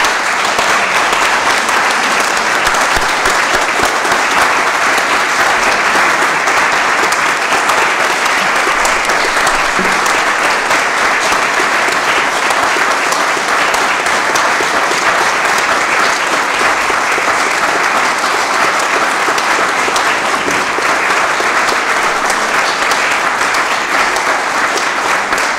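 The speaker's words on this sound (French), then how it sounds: "nous pouvons encore une fois, par nos applaudissements" Loud, dense applause rises from a congregation during a church cantata service, a continuous even wash of many hands clapping that holds steady throughout with no speech.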